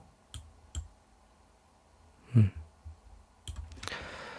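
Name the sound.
computer mouse clicking while copying and dragging shapes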